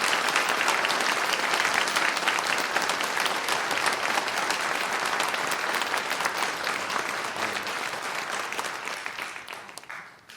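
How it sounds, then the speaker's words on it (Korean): A church congregation gives the pastor a warm round of applause at a prayer school service, dense sustained clapping filling the room, loud and even before gradually fading out at the end. "여러분, 목사님 모실 때 우리 뜨거운 박수로 환영해 주시기 바랍니다."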